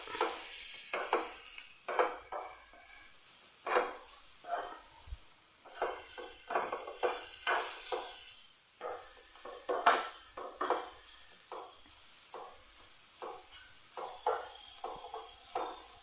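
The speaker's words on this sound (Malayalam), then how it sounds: "ഇതിലേക്ക് മധുരത്തിന് ആവശ്യമായിട്ടുള്ള പഞ്ചസാര, ഒരുപാട് മധുരത്തിൻ്റെ ആവശ്യമില്ല. നല്ലപോലെ ഒന്ന് മിക്സ് ചെയ്തെടുക്കാം." Grated coconut and sugar stirred in a pan, a spoon scraping and tapping in short irregular strokes over a soft steady hiss, close and fairly quiet with no talking.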